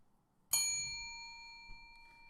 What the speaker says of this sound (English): The bell works.